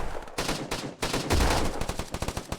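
A gun fires in a tactical shooter video game, with rapid bursts of close, loud shots in quick automatic strings, briefly broken by a short pause.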